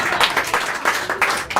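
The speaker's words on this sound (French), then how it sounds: "On peut applaudir même si j'ai pas envie." Audience at an improv theatre show clapping in short bursts, a lively patter of applause that rises and falls over a moment with no voices on top.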